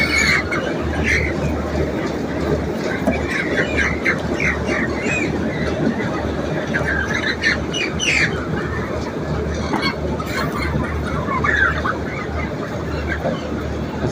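Chickens at seven weeks old squawking during hand grading at a poultry farm, scattered squawks and clucks over a busy background hum, with people talking nearby.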